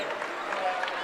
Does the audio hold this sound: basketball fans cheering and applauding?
yes